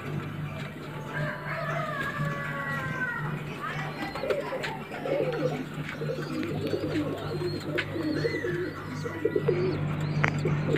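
Pigeons at a pigeon sale in Lucknow, repeated soft cooing and some chirps over steady low hum, with people talking in the background throughout.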